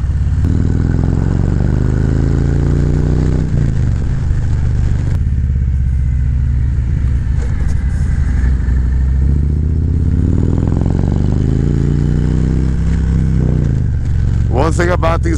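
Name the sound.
Harley-Davidson Road Glide motorcycle riding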